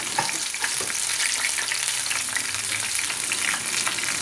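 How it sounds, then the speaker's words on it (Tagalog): String beans fry in hot oil with a steady, dense crackle and sizzle that stays loud and close the whole time, with no voices. "it cooks very fast in the hot oil"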